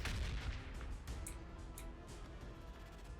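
Distant rumbling battlefield gunfire and artillery thuds in the strategy game Warhammer 40,000: Battlesector, a steady dense barrage of repeated impacts under a constant roar, fairly quiet throughout.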